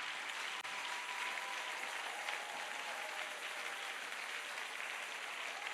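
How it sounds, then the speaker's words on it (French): A church congregation clapping steadily and continuously, a dense even wash of applause filling the room at a moderate distance, with no distinct voices rising above it. "Acclamons celui qui nous a donné la vie."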